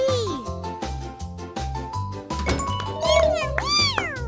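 A cat meows a few times near the end, rising and falling, over a bouncy children's alphabet tune with steady beats and a voice speaking briefly.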